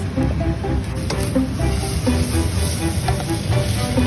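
Sausage browning with onions in a hot pan, a steady close sizzle and crackle of frying with occasional stirring scrapes throughout.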